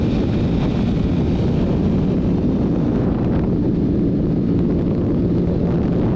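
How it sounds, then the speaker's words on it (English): Steady, loud roaring wind buffeting the microphone while riding a 2021 Ducati Panigale V4S motorcycle at speed, a continuous broadband rush with low rumble throughout and no voices. "This is wind."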